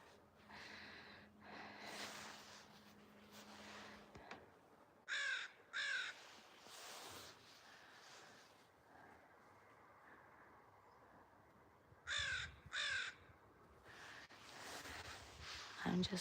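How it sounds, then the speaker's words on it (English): Several birds call from a tree outdoors in a quiet natural setting, with a few loud, sharp crow-like caws in two pairs standing out over faint, softer chatter and background ambience. "It's a bunch of little birdies."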